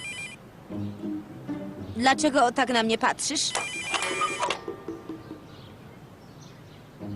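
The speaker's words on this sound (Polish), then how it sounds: "Nie odbierzesz telefonu?" A cartoon telephone rings in a loud burst of bright electronic trills for a couple of seconds, heard in a Garfield cartoon scene, with someone speaking Polish before the ring.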